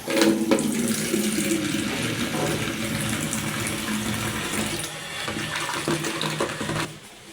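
Running tap water splashing into a container while shampoo is mixed in to work up foam for a gas pipe leak test at home, a steady continuous gush that cuts off near the end.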